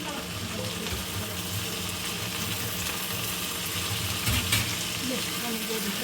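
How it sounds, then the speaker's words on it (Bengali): Chopped potatoes and bitter gourd frying in a pan make a low, steady sizzle with occasional stirring scrapes. A voice talks quietly over it. "এখন করলা আলুগুলোকে খুব সুন্দর করে মিশিয়ে নিচ্ছি ভালোভাবে।"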